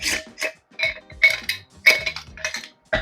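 A plastic lid pressed onto a meal prep container of salad with feta, a few sharp clicks and clatters in quick irregular bursts, close and fairly loud.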